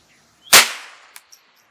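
A single sharp, close .22LR rifle shot fired over a chronograph with Norma ECO Speed ammunition, a loud crack followed by a brief decaying echo and two small clicks.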